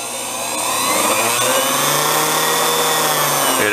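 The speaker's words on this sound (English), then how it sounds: "I put a piece of pipe on the sewing machine motor" Homemade mini grinder built from a sewing machine motor with a piece of pipe and JB Weld fitted on the shaft, a loud, steady high-pitched whine that spins up and holds its speed, close and alone.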